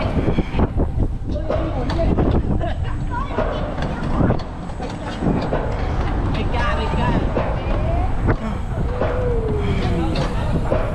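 Strong wind roars against the microphone on the Flying Macaw swinging, flipping ride at the Camel Republic amusement park, a loud continuous rumbling buffet with rattling and creaking from the ride throughout, with people talking over it.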